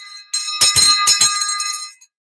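An old school recess hand bell with a wooden handle rings in a quick burst of several bright metallic clangs, loud and close, then stops abruptly.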